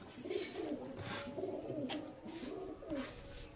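Andhra (Madras) high-flying pigeons in a loft in Canning coo close by in repeated, rolling phrases, several birds overlapping steadily.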